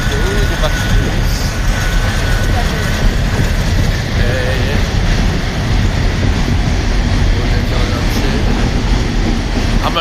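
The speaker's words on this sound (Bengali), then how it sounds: "উপর দিয়ে যাচ্ছে ট্রেনটা" A train crosses the Paksey bridge overhead, heard from below as a loud, steady rumble and rolling clatter that fills all ten seconds without a break.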